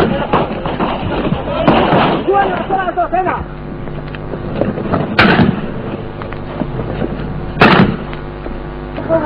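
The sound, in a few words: gunfire in Jerusalem Old City battle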